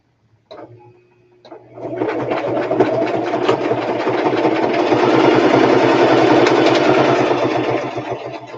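Sewing machine running a straight stitch: after a few brief clicks it whirs up into a steady fast mechanical hum with rapid needle ticking, close and loud, then eases off at the end.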